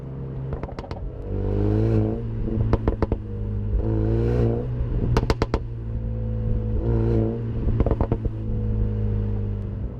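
A Brabus-tuned Mercedes-AMG A35 engine idles and repeatedly revs, with sharp exhaust pops and crackles between the rises, loud and close.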